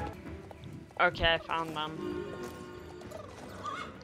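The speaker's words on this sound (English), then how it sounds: "All this riding around as a horse just makes four legs tired instead of two." A horse's whinny and hoofbeats while riding in a horse-riding video game: short harmonic neighing bursts over a steady background of play sounds, with a person talking over them.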